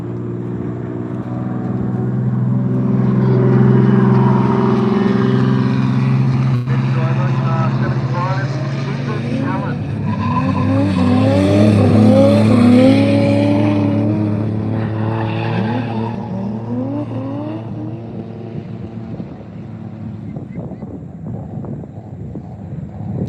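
A drift car howls past on track at Ebisu Circuit, Japan, during Autumn Drift Matsuri practice, its engine rising as it approaches, tires squealing in wavering bursts mid-pass, then fading away, with wind buffeting the microphone and voices at times.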